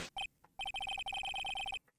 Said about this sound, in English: What the hell was that ringing piece of plywood?